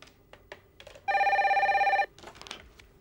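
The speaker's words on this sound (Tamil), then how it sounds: "இந்த 3 டெலிபோன்ல எதுல மணி அடிக்குது சொல்லு பாப்போம்" An old-style telephone bell rings in one continuous burst of about a second, loud and clear, with faint clicks and rustles before and after.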